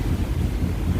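Strong typhoon wind roars over a boat at sea, with waves surging around it: a dense, steady low rumble of wind buffeting and water, loud and continuous with no voices.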